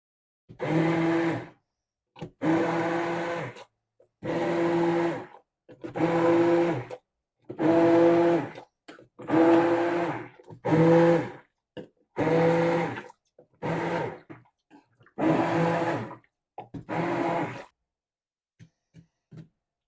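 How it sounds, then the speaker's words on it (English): An immersion blender whirs through applesauce in about ten short bursts, each a couple of seconds long with brief pauses between, close and fairly loud. "you just want to take your little immersion blender and we're just going to blend it up here"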